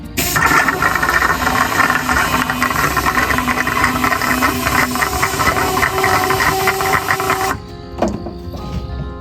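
A loud, steady rushing hiss of air at 25 pounds forcing water out of a Jayco Eagle 312BHOK travel trailer's plumbing lines during winterizing, continuing for several seconds before cutting off, followed by a few faint knocks.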